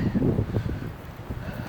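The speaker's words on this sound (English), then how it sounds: "Not sure what the wind is doing. It's very windy." Outdoor wind buffeting the microphone on a very windy day, a steady low rumbling roar with gusty swells throughout, no speech over it.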